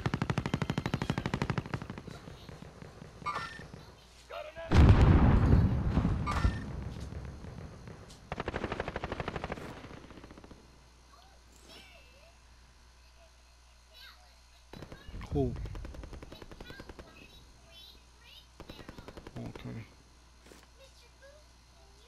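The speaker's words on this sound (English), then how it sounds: "Somebody's shooting at him from on top of us." Gunfire in Call of Duty: Modern Warfare, with bursts of automatic fire that come loud at times and fainter at others, under players talking over team chat.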